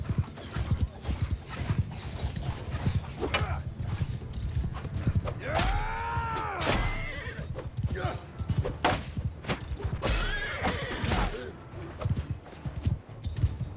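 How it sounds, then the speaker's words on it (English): A horse in the Mount & Blade II Bannerlord video game neighs loudly twice amid rapid, continuous hoof clip-clop, close and prominent, with someone talking intermittently over it. "Oh, there comes a horse."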